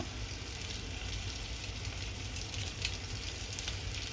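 Steady, even sizzling hiss of sun-dried fish frying on an electric pan, continuous and fairly faint, with a low background hum and no voices.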